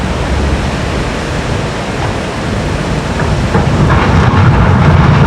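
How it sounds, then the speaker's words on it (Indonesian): A dense, roaring rumble of boulders being dumped for dam repair works at Srandakan, broad and continuous like rushing water, swelling slightly toward the end. "Terdengar lagi gemuruh. Baru saja bebatuan boulder diturunkan"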